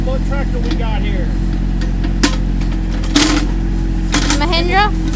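A red Mahindra 1626 tractor idles nearby with a steady low mechanical rumble, while voices talk over it and a few sharp knocks and clanks break through.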